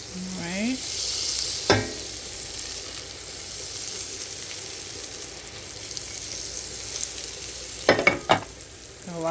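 Half a stick of butter melts in a hot pan with a steady, moderately loud sizzle, and a few sharp scraping clinks from stirring break in near the start and toward the end, with no talking.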